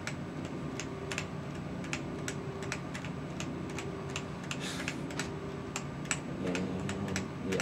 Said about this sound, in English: you're sitting there pounding the keyboard and it's not really doing anything.